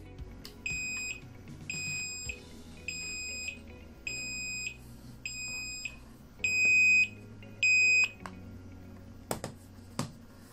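Location beeper on a ZYF Z10 2.4 GHz wireless air mouse remote, triggered from its dongle button: a series of seven short, bright, evenly spaced electronic beeps, each about half a second long, heard fairly close with faint background noise.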